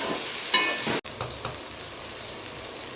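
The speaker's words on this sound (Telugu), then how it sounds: "క్యారెట్ వేసుకుంటున్నా. బీన్స్ కూడా వేసుకుంటున్నాను. కొద్దిగా గ్రీన్ పీస్ వేసుకుంటున్నాను. ఇవి బాగా ఫ్రై చేసుకోవాలి." Carrots, beans and green peas fry in a pan for vegetable pulao, a brief burst of loud hissing and a sharp break, then a softer steady sizzle with light stirring.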